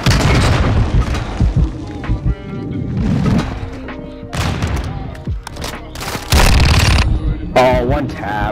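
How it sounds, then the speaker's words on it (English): Grenade explosions in a video game shooter, several heavy booms and crashes landing in quick succession amid automatic gunfire, loud and close, with someone talking over the chaos. "Can y'all stop with the grenades?"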